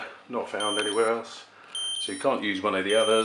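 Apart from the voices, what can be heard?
alarm clock beeping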